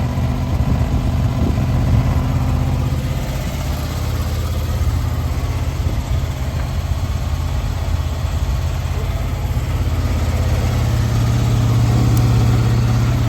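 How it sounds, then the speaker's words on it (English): A 2005 Honda VFR 800 motorcycle engine idles steadily while warming up, a continuous close, loud, even hum with no talking. "I'm going to let the bike warm up."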